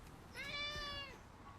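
A pet cat named Dice lets out a single drawn-out meow, clear but moderate in level over a quiet room, with no talking.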